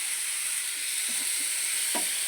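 Tomatoes drop into a pan of frying onions, and a constant hiss of sizzling oil follows. A few faint stirring clinks and bumps sit beneath the steady sizzle.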